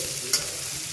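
Carrot and two colours of capsicum stir-frying in a pan for street-style chicken noodles, a steady broadband sizzle with one brief sharp scrape of a spatula near the start, no talk.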